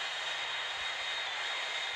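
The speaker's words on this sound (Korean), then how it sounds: "비행기 착륙하고 있어요, 저기." Airplane landing in a video game, a steady, continuous jet roar at even loudness throughout, with no other sounds standing out.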